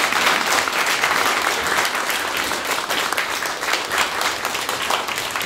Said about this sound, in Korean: 한번 우리 임 대표님께 박수 좀 부탁드립니다